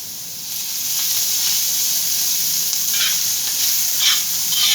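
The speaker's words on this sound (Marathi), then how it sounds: "कांद्याला आपल्याला चांगलं भाजून घ्यायचं आहे. त्यासाठी थोडं तेल घालतो आपण." Onions roast in a little oil in a pan for Khandeshi urad dal curry, producing a loud, even hissing sizzle that swells slightly, with a few brief stirring scrapes and no voices.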